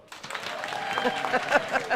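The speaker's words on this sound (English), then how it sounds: "has our applause button that he's going to be pushing" Studio audience at a local radio news roundtable breaks into applause on cue, a moderate burst of clapping that builds unevenly with voices mixed in.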